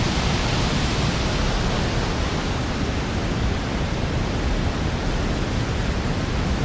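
A New Zealand waterfall roars as a constant broadband rush of falling water, loud and close throughout with no voices.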